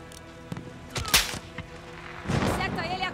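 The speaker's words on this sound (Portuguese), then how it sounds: "Esses tiros estão vindo da estrada." Gunfire in the Call of Duty: Modern Warfare campaign on a road: several sharp shots crack out, one loud burst near the middle and another cluster near the end, mixed with game effects and voices.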